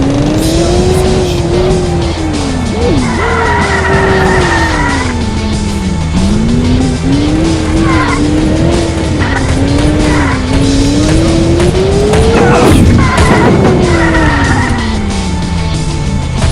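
A car speeding in a police simulator game, a loud revving engine whose pitch climbs and drops with gear shifts, tires squealing at moments, close and continuous, with no talking.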